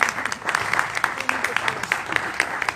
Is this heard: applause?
yes